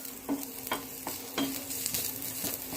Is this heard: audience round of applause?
no